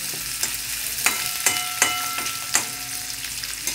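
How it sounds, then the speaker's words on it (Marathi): Curry leaves and onion sauté in hot oil for a Maharashtrian dish, a steady close sizzle broken by sharp spatula taps and scrapes about every half second. "कढीपत्ता आणि कांदा तेलात छानपैकी परतून घेऊया।"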